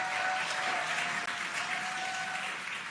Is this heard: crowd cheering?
yes